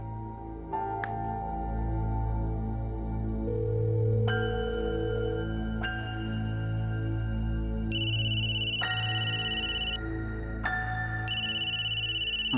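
An electronic phone ringtone plays a repeating melodic pattern of bright tones, steady and clear, with no voices.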